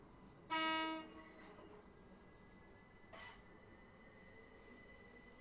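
A train running on the Medway Valley Line between Tonbridge and Strood, with a short, loud horn blast near the start over a steady rolling rumble, then a brief fainter clank later.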